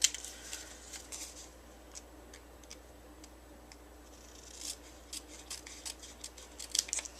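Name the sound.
scissors trimming excess paper from an envelope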